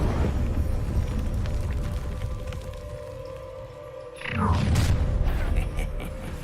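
An Incendio fire spell cast in a Harry Potter video game bursts out as a sudden whooshing, roaring blast midway through, rising over an already dense rumbling game soundscape and fading back into it.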